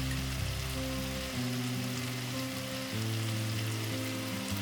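Soaked chili powder paste frying in a kadai for a Bengali fish curry, giving a continuous close, steady sizzle with a bubbling crackle throughout and no voices.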